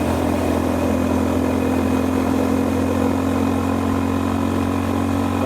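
Steady, continuous engine drone from a Honda GB350S single-cylinder motorcycle cruising on an expressway, held in fourth gear at fairly high revs, loud and unbroken with wind noise and no talking.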